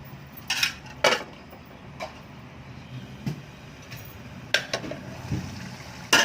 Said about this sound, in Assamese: অলপ দেৰি মই ঢাকন লগাই দিম।